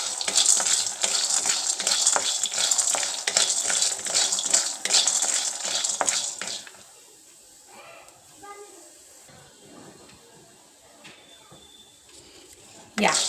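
Peanuts, roasted gram and cumin dry roasting together in a pan on a low flame, a steady crackling hiss with stirring for the first six seconds, then quieter scraping and clinks with faint voices.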